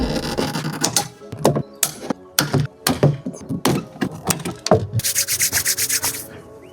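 Interior trim panel of an Audi Q5 being pried off its clips, heard as a series of close rubbing, scraping and plastic knocking sounds in irregular bursts, ending in a rapid rattling run, with no talking.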